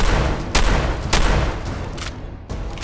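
Heavy bursts of gunfire in the video game Fallout 4, loud and close, with several sharp repeated blasts in quick succession and a dense rumbling tail between them, no talking.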